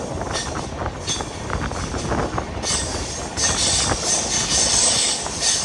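Train wheels skip and squeal along the rails of the Mumbai LTT to Kakinada Port Express, a long train hauled by three engines on a climbing route, giving a continuous loud rumble with rhythmic clicks and brighter metallic squeals late on.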